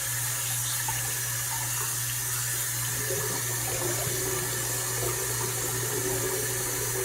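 Steady tap water runs into a bathroom sink between shaving passes, a continuous even rush with a low hum beneath it and no talking.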